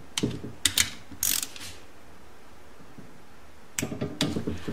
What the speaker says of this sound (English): And we torque these up nice and easy, same thing,